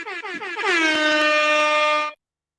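A loud, sustained air horn blast rings out alone for about two seconds after a brief stuttering start, then cuts off abruptly.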